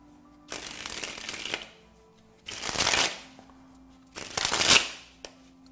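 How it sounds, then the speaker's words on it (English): Playing cards sprung from one hand to the other, three separate riffling bursts of fast, crisp fluttering, each lasting about a second with short pauses between, close and clear with no talk. "And that's the card spring."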